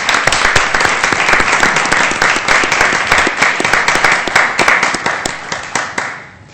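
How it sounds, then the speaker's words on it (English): Steady applause from a city council meeting room full of people, many hands clapping together at a sustained level before tapering off at the end. "I think it's at least worth 1 round of applause, if not 2."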